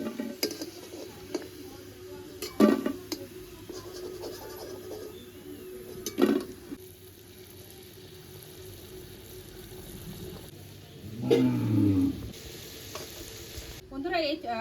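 Soybean fritters frying in a pan of hot oil, a continuous gentle sizzle with occasional louder bursts and stirring or scraping sounds, near and fairly quiet.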